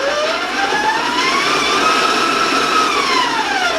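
An electric mixer creams butter and granulated sugar, its motor whine loud and steady, sliding up and down in pitch as it runs for a few seconds, close by and without talk.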